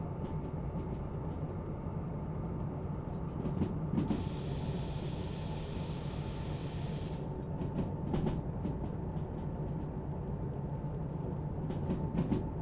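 A DH4 diesel locomotive in the Derail Valley train game runs with a steady, droning engine rumble, and a bright hissing burst rises for about three seconds mid-run. No one talks.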